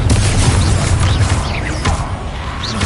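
Confringo fire spell blasts in Hogwarts Legacy, a loud dense barrage of low booms and crashing impacts with swooshing whistles and sharp pops layered over a constant rumble, close and intense throughout.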